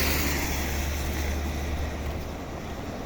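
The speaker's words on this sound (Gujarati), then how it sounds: "ધોધમાર પાણી એની આવક છે" Floodwater rushes with a steady, loud roar that never lets up after heavy rain, filling the whole scene with broad churning noise.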